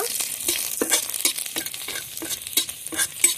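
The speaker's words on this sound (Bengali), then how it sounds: "তেল গরম হয়ে গেছে। এখন কুচনো রসুনগুলো দিয়ে দিচ্ছি। রসুনগুলো ভেজে নেব।" Chopped garlic frying in hot oil, a crackling sizzle with repeated quick spatula stirs and light clicks in an uneven rhythm, close and unaccompanied by voices.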